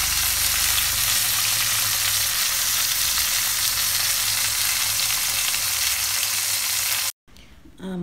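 Red tilapia fish pieces frying in a pan, a loud, steady sizzle that runs unbroken for about seven seconds and then cuts off abruptly to near silence.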